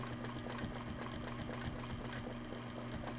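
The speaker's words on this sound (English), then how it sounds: "And then I'm going to stitch down again." Sewing machine stitching fabric while piecing quilt triangles, a steady close mechanical whir with fast even needle ticks running continuously, no talk.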